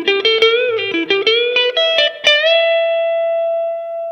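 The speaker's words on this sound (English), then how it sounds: "you get a clean guitar tone, and it sounds like this." Clean electric guitar notes and chords, bright and undistorted, played in a quick run before a final chord rings out and slowly fades.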